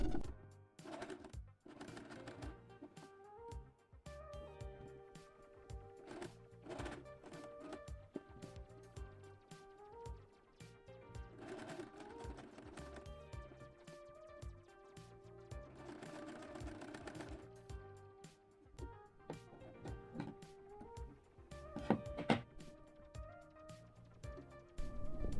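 A sewing machine stitching patchwork fabric squares together, running in bursts of rapid mechanical whirring and clatter with short pauses between, fairly close and without talk.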